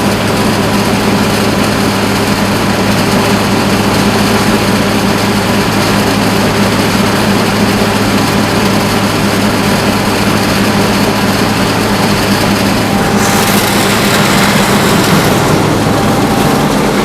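A corn grinder making cattle feed runs at a steady loud drone with a constant engine hum, its noise brightening toward the end, and no one talking.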